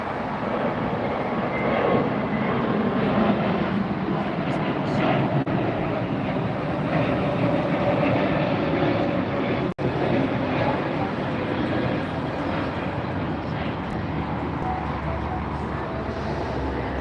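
An Air New Zealand jet at LAX airport gives off a steady, loud broadband roar of aircraft engines throughout, with distant airport hum beneath and no clear speech.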